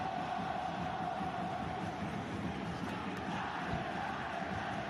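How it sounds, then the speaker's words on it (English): LAFC and RSL football fans cheer in a stadium, a dense, steady crowd roar filling the space continuously from a distance without pause. "the fans are cheering on their LAFC and RSL fans cheering on their RSL"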